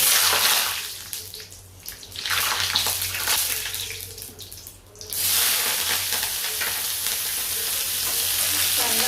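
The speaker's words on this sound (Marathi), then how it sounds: "शेंगादाणे थोडी तळून घेते पहिल्यांदा टाकून तळले जातात" Peanuts frying in hot oil with cumin in a pan for a kadhi and kande pohe breakfast. The sizzle is loud and steady, surging and fading as the nuts are stirred, with no talk over it.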